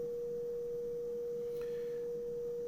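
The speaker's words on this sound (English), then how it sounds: "If I introduce a sine wave into the sound," A pure sine wave tone near 500 Hz holds perfectly steady and moderately loud throughout, with a brief faint click partway through.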